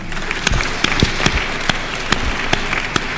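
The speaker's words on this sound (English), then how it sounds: "Again, let's clap for her." Steady applause fills a graduation ceremony at the University of Eastern Africa, Baraton, dense crowd clapping throughout with a few sharper, louder claps standing out near the microphone.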